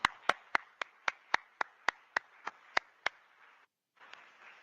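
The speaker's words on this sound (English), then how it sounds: "Let's thank him again by a round of applause, please." Slow, evenly spaced hand claps, about a dozen sharp single strikes, at a community remembrance and reconciliation gathering after a county executive's remarks; faint and sparse, sounding like one or two people clapping alone, then a short silence.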